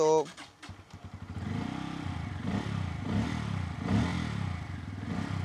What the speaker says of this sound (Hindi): आपको इस बाइक का एग्जॉस्ट नोट भी सुना देता हूँ